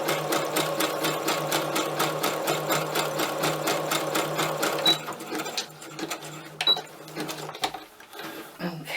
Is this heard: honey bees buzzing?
no